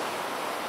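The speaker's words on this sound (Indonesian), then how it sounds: "Terus kita lagi di sini dengan ombak-ombak ini." Ocean waves near the Golden Gate in San Francisco, a dense, steady broadband wash of surf with no distinct breaks, heard as continuous rushing noise over a brief moment.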